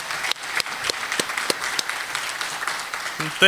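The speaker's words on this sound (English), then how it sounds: "let's give Jeff a round of applause" Applause from an audience after a talk by a music company founder at an innovation camp, steady clapping with sharp individual claps standing out, continuous and moderately loud for the whole stretch.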